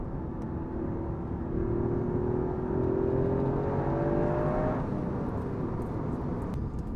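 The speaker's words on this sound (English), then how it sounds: "The four-cylinder on the Pug, actually, it is responsive, but it's not the nicest sounding or the nicest feeling" Peugeot 106 Rallye 1.6 four-cylinder engine revving, a fairly quiet, rough-edged drone whose pitch climbs steadily, then drops away and settles under a low rumble.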